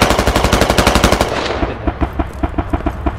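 Automatic gunfire in the military shooter game Squad: a fast, loud burst of rapid shots for about a second and a half, then slower, sparser single shots continuing.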